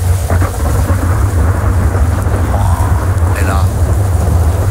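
Thunderstorm with heavy steady rain and deep rolling thunder rumbling underneath, loud and dense throughout, while someone speaks briefly over it.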